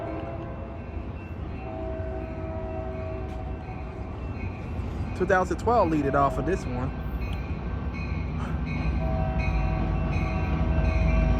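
An Amtrak Capitol Corridor train, number 733, pulls into Oakland Jack London Square station with a brief horn sounding over steady rumble and station ambience, while someone talks throughout.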